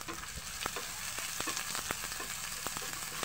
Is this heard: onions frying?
yes